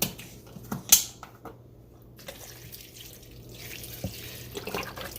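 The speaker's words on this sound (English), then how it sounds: "And then we're going to go in with regular beef broth as well." Beef broth pours into a pot of pinto beans, a watery splashing and trickling that starts with a brief louder gush, then continues as a softer running flow, close by with no talking.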